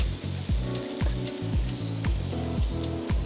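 Beef bacon sears in a hot pan in a restaurant kitchen, giving a steady loud sizzle and crackle with repeated scraping strokes as it is moved around.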